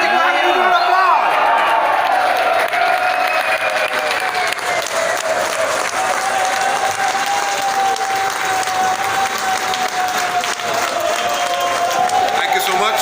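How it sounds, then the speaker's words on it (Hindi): Loud, sustained applause from an audience with cheering mixed in, welcoming a company managing director on stage at an event; dense clapping fills the whole stretch while voices carry over it. "Come on, let's give him a applause."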